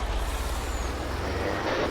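In the Farming Simulator 22 video game, a Mack truck gives a steady loud hiss of air brakes over the low rumble of its idling engine, with no talk.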